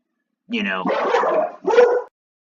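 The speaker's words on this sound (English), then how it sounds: "I really do apologize for all the barking in the background." A dog barks and yips nearby in a short burst of about two seconds, with harmonic, voice-like cries that blend into the room.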